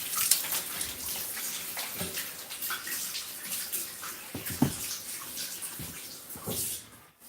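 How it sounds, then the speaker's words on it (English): Water runs from a kitchen tap as hands are rinsed, a steady close splashing rush with irregular louder splashes where hands break the stream, fading at the end. "So I'm going to go ahead and rinse my hands."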